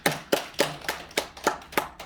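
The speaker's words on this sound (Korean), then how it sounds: "큰 박수 부탁드리겠습니다" Hands clap in a steady, evenly spaced rhythm, about three strikes per second, each sharp and moderately loud, during the guest introductions at a forum on social finance for Jeju forestry.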